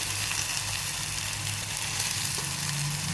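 Tomatoes go into a hot pan for a Marathi-style bitter gourd curry, with onions already cooking, giving a steady, close sizzle and frying hiss that holds evenly throughout with no voices.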